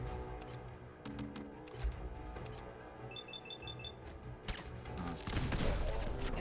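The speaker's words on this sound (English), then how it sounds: "he's shooting a fucking cannonball" Cannonball fired in Fallout 4 amid clattering game gunfire and impacts, with a heavy boom building near the end over busy combat noise.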